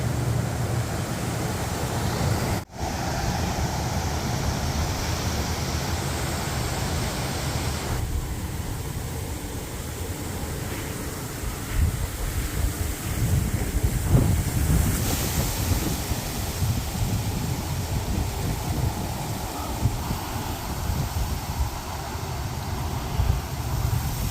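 Continuous rushing rustle of wind through poplar tree foliage, broadband and steady with gusty swells, loud and close, with no voices.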